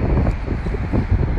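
Wind buffets a microphone outdoors, giving a steady low rumble that lasts throughout this brief moment with no talking.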